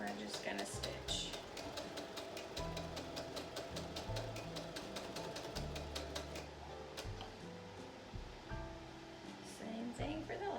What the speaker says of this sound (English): raise my presser foot just a little bit to get this underneath there, and we're just going to stitch